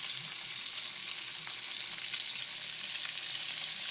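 Vegetables with pechay simmer and sizzle in a frying pan as coconut milk goes in, a steady, close bubbling hiss that runs unbroken throughout.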